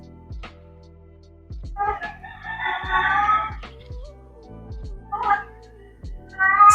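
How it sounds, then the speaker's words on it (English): A cat meowing in the background indoors, several drawn-out, wavering cries spaced irregularly over a few seconds, with soft knocks and handling noises between them. "Sorry if you hear my other cat in the background."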